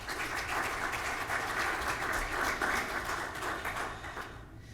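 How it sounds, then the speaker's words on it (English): An audience at a software presentation gives a steady round of applause, a continuous dense clapping that holds evenly for several seconds and then starts to thin at the end. "let's just give them a little round of applause."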